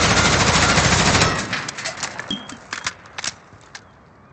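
An M4A1 rifle fitted with a forged tac stock firing in a video game, a loud sustained automatic burst that stops abruptly, followed by scattered fainter clicks and clatter as it dies away.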